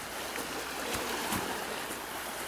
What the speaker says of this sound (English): water level is way, way up. A lot faster moving than it normally is.